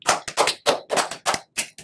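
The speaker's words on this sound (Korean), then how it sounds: "박수!" Quick clapping celebrates a game win, heard as about seven separate sharp, close hand claps in an uneven rhythm.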